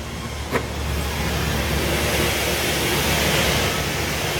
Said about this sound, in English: It's really loud because there's all kinds of fans to filter all of the paint and stuff.